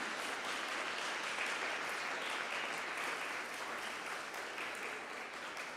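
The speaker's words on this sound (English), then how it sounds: "Let's also give a huge round of applause specifically to all the teachers involved in this year's program" Dense, steady audience applause for teachers at a school video contest award recognition, a continuous wash of many hands clapping at even loudness throughout with no speech over it.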